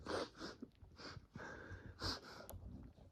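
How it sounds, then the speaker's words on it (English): Someone blows their nose in a few wet, forceful bursts, with snorts and sniffs between them, close up. "I'm going to have to, like, blow my nose."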